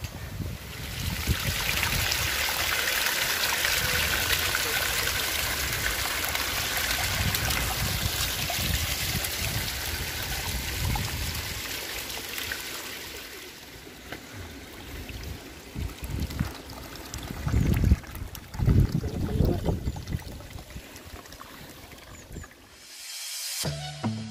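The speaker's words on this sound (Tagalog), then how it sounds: "And at meron ditong maliit na tubig or kanal or sapa" A small stream or canal runs toward planted rice paddies in Buscalan village, giving a continuous broadband rush and trickle of water, with steady near flow that swells louder near the end.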